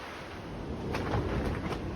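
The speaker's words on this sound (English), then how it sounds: "You can probably hear it's raining." Steady rain and gusting wind from a storm in Ireland, recorded outdoors. A continuous broadband rush swells slightly and is punctuated by soft buffeting thumps on the microphone, with no speech.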